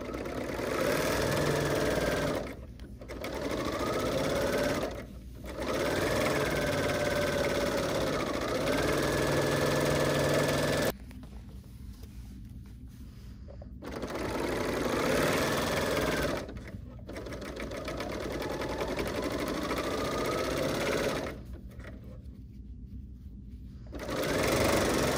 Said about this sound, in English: now we're going to stitch down the sides with a flat lock stitch